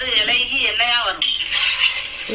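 A spoon scrapes and clinks against a pot while chicken biryani is stirred, with bright metallic scraping strokes over a short stretch and a faint cooking hiss beneath.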